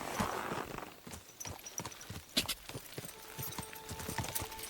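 Horse hooves clip-clop in Kingdom Come: Deliverance 2, a string of uneven, close hoof strikes over a soft ambient bed, with a faint tonal hum entering near the end.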